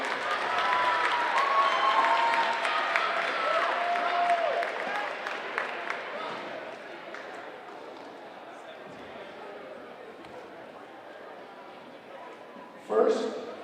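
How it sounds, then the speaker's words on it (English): Applause from the crowd at a girls' high school volleyball championship final swells early, then thins to scattered clapping under room noise, with a brief burst near the end. "let's have a big round of applause for both teams for a great FCIAC finals"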